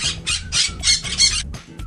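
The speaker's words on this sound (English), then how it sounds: "Parrot." A parrot lets out a run of harsh, raspy squawks in quick bursts, loud and close, followed by a couple of shorter calls after a brief pause.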